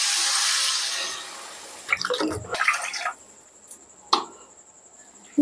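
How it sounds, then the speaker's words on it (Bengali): Water poured into a pan of cooked-down spices for Katla fish curry, a steady broadband pour lasting about two seconds, then splashing and a few sharp knocks, with a faint high tone continuing. "মশলাটা কষানো হয়ে গেছে, এবার ঝোলের জন্য জল দিয়ে দেব।"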